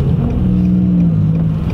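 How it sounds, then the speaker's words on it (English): Car idling through a cheaper aftermarket exhaust, a steady low rumble with a faint harmonic drone, moderately loud and close, no talk. "I appreciate having an idle that's not perfectly silent, which is nice, and I do get that on this cheaper exhaust."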